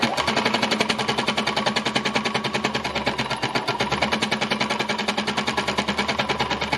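A small embellishing machine runs steadily while stitching a fabric seascape, with a fast, even mechanical chatter of rapid needle strokes, close by and moderately quiet, with no talking.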